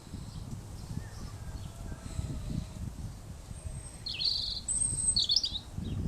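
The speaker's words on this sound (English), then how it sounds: "I can hear the robin and I can see it, so it's definitely a robin" A robin sings in a garden, its short bright phrases rising clearly over faint rustling and a low rumble, with bird calls and chirps coming in brief bursts toward the end.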